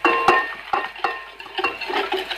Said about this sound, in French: Je mélange aussi